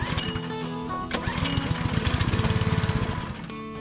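Small Simpson pressure washer engine fires briefly on a whiff of carb cleaner, a loud rapid chugging that runs for a few seconds with a steady pulsing rhythm before cutting out.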